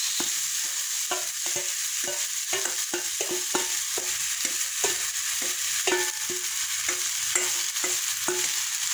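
Corn kernels sautéed in a pan with fish sauce, a metal utensil scraping and tapping in an uneven rhythm over a steady close sizzle, with no talking.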